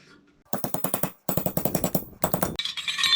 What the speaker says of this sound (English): I figured out I can just use a puncher and do this.